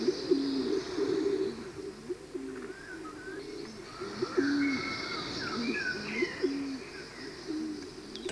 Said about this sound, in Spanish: atraen a la paloma rabiche, una de las aves más interesantes y esquiva de las que habita en la caldera